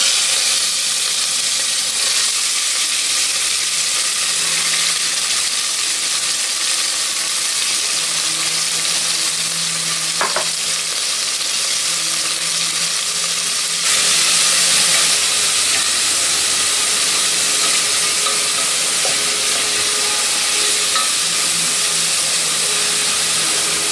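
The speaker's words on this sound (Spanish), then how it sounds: "Aquí está nuestra olla con nuestro aceite caliente. Le agregamos la carne." Meat sizzles in hot oil in a cooking pot, a loud, constant hiss that carries on without a break and swells slightly partway through, with no voices.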